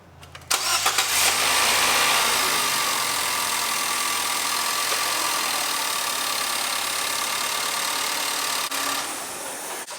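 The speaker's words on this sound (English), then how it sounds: "I've just had the engine running for about 30 seconds to a minute" A 2018 Nissan Qashqai 2.0 litre petrol engine cranks to life and then runs steadily at idle, a continuous loud mechanical drone with no talking.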